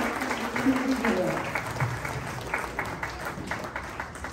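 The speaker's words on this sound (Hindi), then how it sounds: "जोरदार तालियों से हम स्वागत करते हैं" An audience at a Maheshwari community talk show on entrepreneurship applauds to welcome a guest, a steady, fairly loud wash of many hands clapping that carries on throughout.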